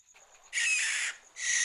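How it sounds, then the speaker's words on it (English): A high, harsh screeching call bursts out twice in quick succession, loud and close, over faint background chirps. "It's the barn owl. It sounds like it's in trouble."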